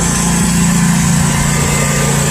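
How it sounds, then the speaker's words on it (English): A lawn mower engine runs loud and close while mowing a tall yard, a steady high-pitched drone with a constant throb underneath. "Right, mowing that part back there."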